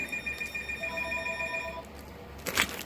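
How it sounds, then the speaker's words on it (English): A telephone rings in a room with steady harmonic electronic tones that last nearly two seconds and then stop, followed by a short clatter as the phone is picked up. "Ringing phone."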